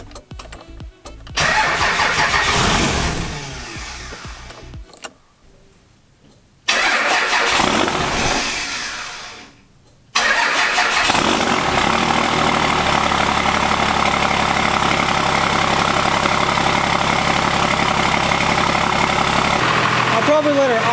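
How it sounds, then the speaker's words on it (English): A cold diesel truck engine, not plugged in, cranks and fires up twice before settling into a loud, steady idle that carries on to the end, with a brief voice in between. "I'll probably let her idle about 10 minutes."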